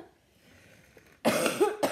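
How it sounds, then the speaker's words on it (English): A woman coughs in a couple of sharp, close bursts after a quiet stretch, the second fit following shortly after the first. "So sorry, I'm coughing."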